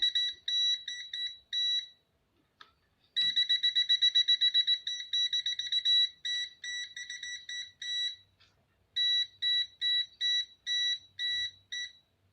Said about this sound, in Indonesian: dia kalau berkedip lampu indikator sambil berbunyi itu menandakan ada tegangan yang melalui pada satu penghantar